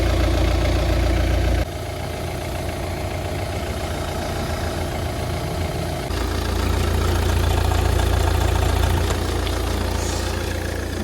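An Audi or Volvo car engine idles steadily at close range, a low continuous rumble with a slight shift in pitch partway through, no voices.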